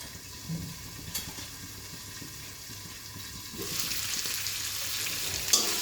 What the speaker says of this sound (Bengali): জাস্ট একটু কষিয়ে নেব যেন টেস্টটা একটু দ্বিগুণ হয়